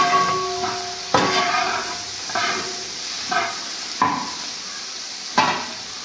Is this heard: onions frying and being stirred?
yes